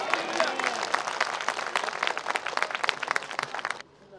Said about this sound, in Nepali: ताली दिनु।